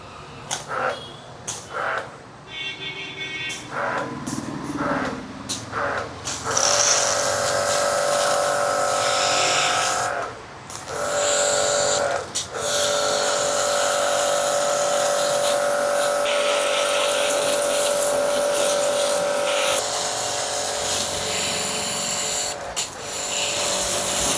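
STARQ AWP 2.8 2800-watt heavy-duty high pressure washer spraying a car: a loud continuous motor whine and hissing water jet, with brief drops and restarts, close and without talk.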